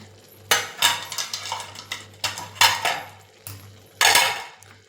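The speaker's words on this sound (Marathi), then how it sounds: "आता झाकण काढते" A lid comes off a cooking pot of horse gram besan with a sharp metallic clatter, followed by further scraping and clanking of utensils against the pot, then another loud clank near the end.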